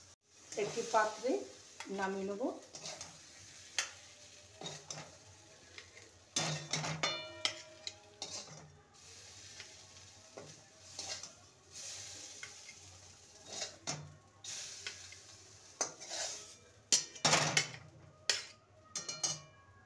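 Spiny gourd and spices frying in a pan for a Bengali kakrol mash, with irregular scraping stirs, clinks and soft sizzling bursts spread across the clip, close and moderately quiet, no talking.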